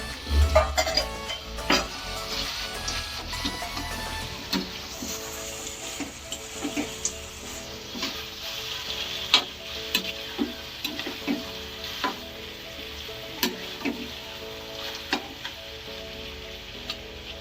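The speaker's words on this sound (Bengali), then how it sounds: "এখন আমি আলুগুলো ছেড়ে দেবো।" Potatoes go into duck meat curry frying in a pan, a steady sizzle punctuated by regular scraping stirs and clinks of a utensil against the pan, close and moderately loud.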